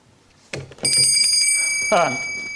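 A quiz show contestant's bell buzzer rings out with a bright, sustained tone that lingers, preceded and followed by studio voices and audience murmur.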